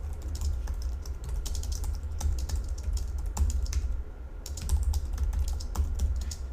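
Fingers type code on a computer keyboard in quick, irregular bursts of close key clicks, with a short pause midway, over a low steady hum.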